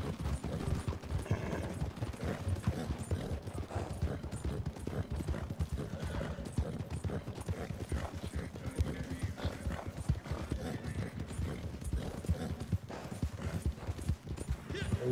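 A horse's hooves clip-clop in a steady, continuous rhythm, close and prominent throughout. A voice talks over the hoofbeats at times.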